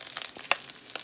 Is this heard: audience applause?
no